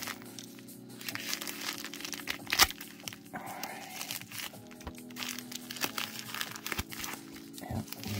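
A mail package is cut open up close, with faint crinkling plastic and paper tearing, scraping and rustling in short irregular bursts against quiet room tone.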